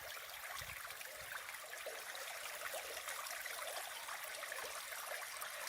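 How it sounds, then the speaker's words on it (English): A single stream in Willow Canyon, Death Valley National Park, California, cascades over rocks with a quiet, continuous splashing trickle that stays steady and bright throughout, without speech. "Actually one stream, but cascading differently over the rocks."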